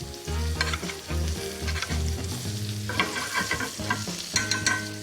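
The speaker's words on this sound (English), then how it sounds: "I'm going to flip this beautiful piece of steak. I'm going to baste this side as well" Steak sizzling in a pan while being basted with melted, infused butter, with a steady loud fry, close up, and repeated spoon-scrape and spatter bursts throughout, no talking.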